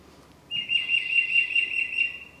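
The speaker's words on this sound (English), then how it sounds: "And they say, Peter, Peter, Peter, Peter. Tufted titmouse." A tufted titmouse gives a clear, high whistled call, one sustained slightly wavering note lasting about two seconds against a quiet background.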